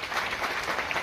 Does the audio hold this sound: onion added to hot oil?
no